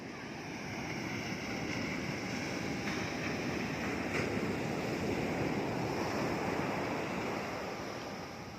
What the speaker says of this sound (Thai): ลมแรงครับลมแรงจริงๆครับคลื่นมันสูงครับช่วงนี้